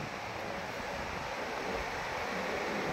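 Steady sea surf washing onto the beach at a resort in San Juan, La Union, a continuous broadband roar with wind buffeting the microphone and no clear breaks between waves.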